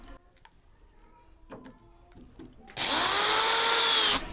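Power drill driving 1.25-inch gypsum screws into steel legs of an HDHMR board almirah, a loud steady whine lasting over a second after some quieter handling knocks.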